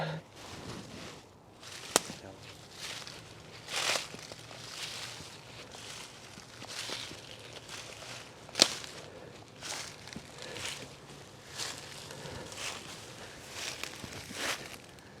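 Footsteps crunch through the woods in an irregular series of soft treads and brush rustles while a hunter walks over to check an arrow after shooting a deer, with a couple of sharper snaps along the way, fairly quiet throughout.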